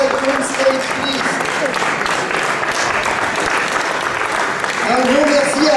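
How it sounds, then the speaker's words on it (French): Audience applause at the results ceremony of the 2018 Trophée National de l'Accordéon, steady dense clapping from a crowd filling the hall, with someone speaking over it on a microphone. "Pascal Savard, viens prendre des applaudissements encore."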